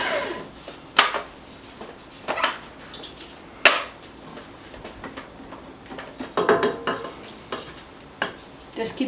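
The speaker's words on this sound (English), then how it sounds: "Just keep scraping your bowl as needed until this all comes together" A spatula scrapes and knocks around a mixing bowl while making shortbread dough for lemon curd tarts, giving scattered clinks and scrapes at irregular intervals, fairly close and moderately loud.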